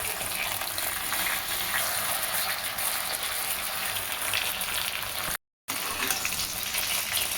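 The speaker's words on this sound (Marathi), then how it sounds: "आपली वांगी भाजत यायला लागले, नरम व्हायला लागले" Eggplants soften as they roast in oil in a pan over medium heat for baingan bharta, with a steady, even sizzle and crackle that runs throughout, close up, briefly cut to silence once.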